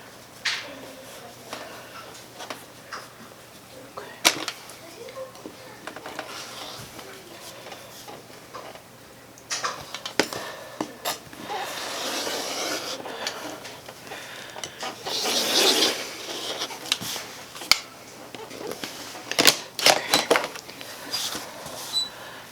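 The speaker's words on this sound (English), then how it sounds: "I'm just cutting out little 10-inch squares" Fabric is cut into 10-inch squares in a craft studio, heard as irregular rubbing and scraping strokes with sharp snips and clicks, nearby and moderately loud, with brief quiet pauses between cuts.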